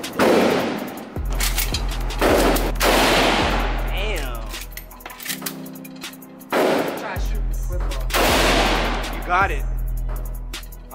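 Gunshots fired at an indoor gun range, a few loud booming reports spaced several seconds apart, with people talking between and over them.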